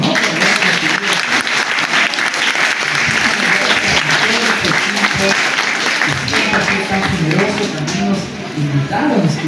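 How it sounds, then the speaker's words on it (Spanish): Lively audience applause at a magazine launch held in a bookstore, loud and continuous clapping with some voices and cheers mixed in throughout, dipping briefly near the end. "Yo creo que Mr. Books merece un aplauso, ¿no?"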